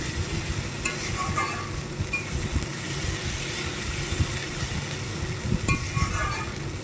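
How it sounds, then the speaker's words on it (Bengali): A spice paste made with poppy seeds fries and sizzles in oil in a pan, for a koi fish curry. The crackling hiss is steady and close, with occasional scraping stirs and no voices. "দেখো মশলাটা প্রায় কষানো হয়ে এসেছে, মশলা থেকে তেল ছেড়ে দিয়েছে।"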